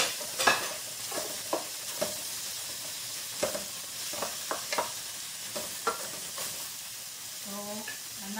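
Chopped tomato is stirred into a sizzling pot for kabsa with meat, a steady frying hiss broken by repeated clacks and scrapes of the spoon against the pot, close up.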